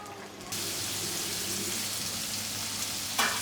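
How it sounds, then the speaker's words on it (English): Steady broadband sizzling of tofu frying in hot oil, continuous and fairly close, with a brief louder splash of hissing near the end, in Gankeng Ancient Town, Shenzhen. "they are frying the tofu here"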